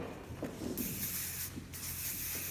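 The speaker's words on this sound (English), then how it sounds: "Go through and spray it." Two bursts of hairspray hiss onto hair, each lasting under a second, with soft rustling and handling noise in between.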